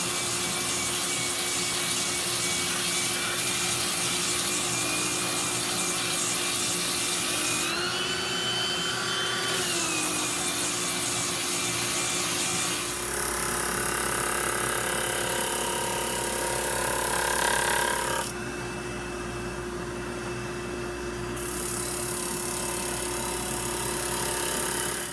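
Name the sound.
small hand sander sanding pallet wood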